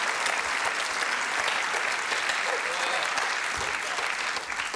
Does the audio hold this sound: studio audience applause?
yes